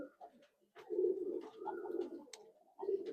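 Tournament flying pigeons coo nearby in soft, throaty, repeated bursts with brief pauses between calls.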